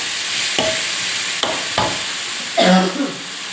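Squid being stir-fried with dark soy sauce in a hot pan, a steady sizzle broken by several distinct scraping strokes of a spatula, the last one longer and louder, with no talking.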